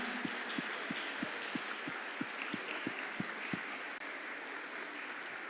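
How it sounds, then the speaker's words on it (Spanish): Church congregation applauding the women on Women's Day, a diffuse wash of clapping hands over a regular, evenly spaced low thump that repeats about three times a second. "le damos un fuerte aplauso a todas nuestras hermanas"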